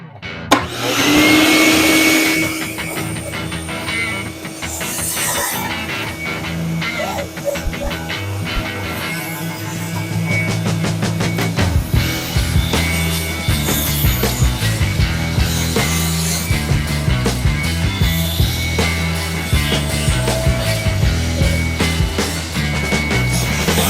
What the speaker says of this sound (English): time to take the world's loudest vacuum and suck out some crevices